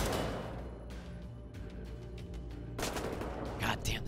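A marksman rifle fires in Wolfenstein: The New Order, with sharp gunshots cracking over a busy game soundscape, a louder burst near the end standing out against the din.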